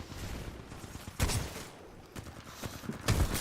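Mastiff shotgun firing in Titanfall 2, several sharp, spaced blasts with short decays that stand out from a busy game background.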